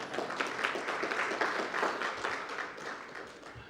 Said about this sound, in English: But let's clap if we've chosen to clap